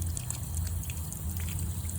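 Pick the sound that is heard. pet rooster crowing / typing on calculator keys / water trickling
water trickling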